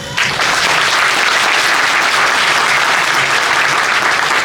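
Loud, sustained applause from a crowd at a silk shop's second-anniversary celebration in Dharmapuri, dense clapping filling the whole stretch without pause.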